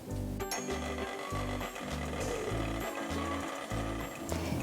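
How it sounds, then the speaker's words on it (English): Electric mixer creaming butter and sweetener in a bowl, a steady motor whir with a rhythmic, pulsing churn from the beaters running throughout, no talking. "And now we're going to cream the butter and the sweetener."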